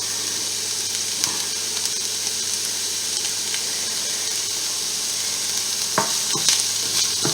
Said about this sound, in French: on remue bien pendant 5 minutes